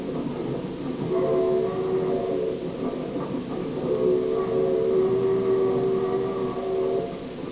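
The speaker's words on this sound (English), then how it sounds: "these two diesels are hauling in a string of steamers" Two Maine Central diesel locomotives haul a string of old steam engines toward scrapping, a steady droning rumble with tonal engine hum and rolling rail noise sustained throughout, moderately loud and without speech.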